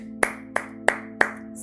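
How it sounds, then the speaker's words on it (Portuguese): Four slow, evenly spaced hand claps sound close and sharp over a steady low hum, a small round of applause with no voices. "salva de palmas"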